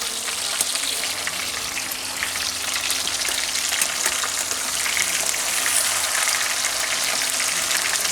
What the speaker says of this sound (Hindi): देखिए एक तरफ फ्राई हो गया तो उसको पलट रहे हैं इस तरह से।